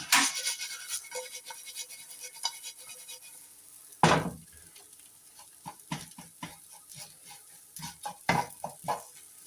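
Spicy potato hash sizzles softly in a pan while a utensil stirs and scrapes through it, producing irregular scratchy bursts and clinks, one sharper scrape standing out, fairly quiet overall.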